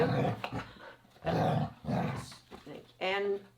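A dog growls in rough, rumbling bursts while tugging on a toy during a training session, close and fairly loud, with a higher whine or yelp at the end.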